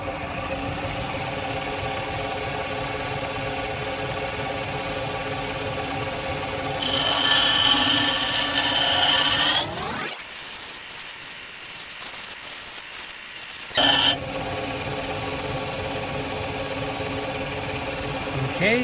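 Knife being ground on a Highland Park A-50 bench grinder with water-fed wheels, a steady mechanical whir with a louder, harsher grinding stretch, then a near-silent gap before the machine noise resumes.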